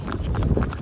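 Horse hooves clip-clopping in a steady, close rhythm on a mountain road near Pahalgam in Kashmir, as the horse heads down to a river to drink after a long climb.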